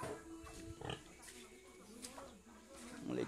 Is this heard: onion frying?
no